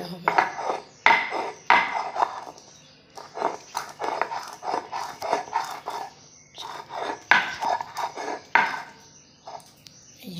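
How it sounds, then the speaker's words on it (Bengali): Jackfruit seeds, garlic, fried cumin and dried chillies are ground by hand on a flat stone slab with a stone roller, making repeated rhythmic scraping and knocking strokes, close and moderately loud. "এই যে শিলে নিয়ে নিয়েছি, দিয়ে এইভাবে এবার ভালো করে আমরা বেটে নেবো।"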